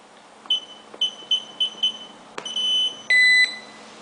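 A WiFi/GSM alarm system's RFID touch keypad chirps a run of short beeps as it is armed, then gives a longer tone and a final sustained high beep, close and clear with no talking.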